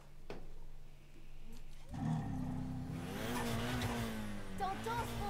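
A sports car in Need for Speed 2015 idles quietly, then its engine fires up and growls steadily with rising revs, loud and close.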